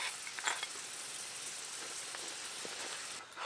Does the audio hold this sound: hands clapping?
no